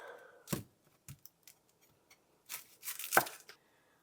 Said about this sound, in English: let's get our onion going. I'm just going to take off both ends